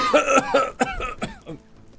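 A few harsh coughs in quick succession, close and fairly loud, trailing off into a throat-clearing rasp.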